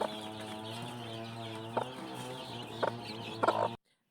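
A hen and her newly hatched chicks in a nest make a steady stream of soft, low clucking with a few sharper peeps rising over it, close by, before cutting abruptly to silence near the end.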